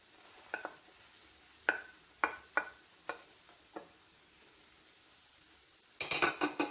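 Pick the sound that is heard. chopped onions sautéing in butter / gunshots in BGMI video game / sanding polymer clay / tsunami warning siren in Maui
chopped onions sautéing in butter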